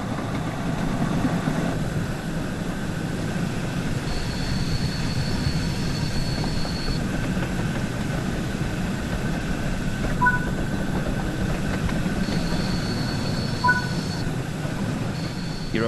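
A Class 8F steam locomotive in Train Sim World 5 gathers speed, giving off a continuous loud rumble and rolling rail noise, with thin high tones sounding intermittently above it.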